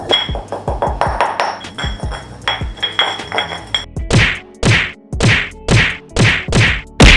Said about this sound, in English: Now we're gonna grind up some white peppercorns.